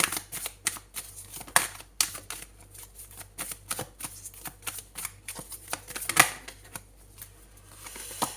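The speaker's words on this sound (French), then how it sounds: "On va prendre une troisième carte." Tarot cards shuffled and drawn in a quiet room, a steady run of crisp, close riffling flicks and snaps with a few sharper slaps, no voices.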